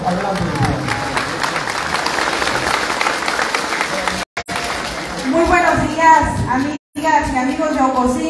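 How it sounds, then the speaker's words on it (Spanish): Crowd applause at a Partido Verde municipal committee swearing-in in Ocosingo, loud sustained clapping with voices and cheering mixed in, followed by someone speaking as it continues underneath. "El aplauso, por favor. Que se escuche ese aplauso."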